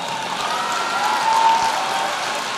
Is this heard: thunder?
no